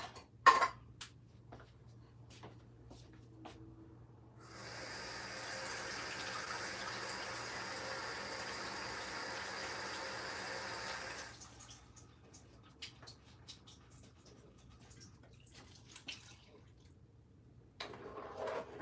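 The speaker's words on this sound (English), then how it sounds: "I'll add the cheese mixture to the pot and add a cup of water" A cup of water pours into a cooking pot holding a cheese mixture, a steady broadband splash and trickle lasting about seven seconds, with faint scattered clinks before and after.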